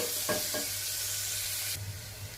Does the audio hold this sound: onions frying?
yes